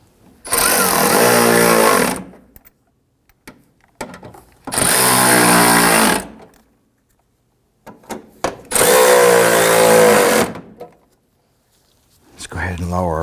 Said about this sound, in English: Let's go ahead and snug down those bolts.